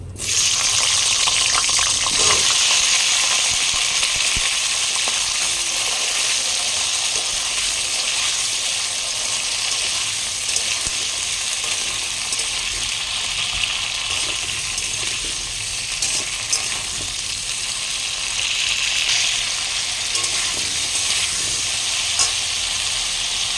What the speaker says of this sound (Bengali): এই তেলে আমি এই কুঁদরিগুলোকে একেবারে ভালোভাবে ফ্রাই করব।